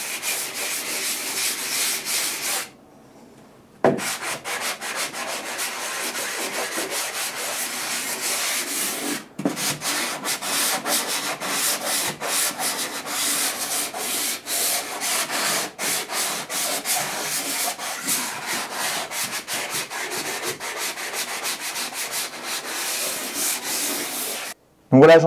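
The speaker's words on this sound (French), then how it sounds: "c'est pas la peine de trop forcer sur la ponceuse. L'enduit de lissage est quand même relativement facile à poncer" An electric sander smoothing filler on a wall, a steady close abrasive whirring rasp that runs almost continuously, broken by a brief pause near the start and a few short stops, with no talking.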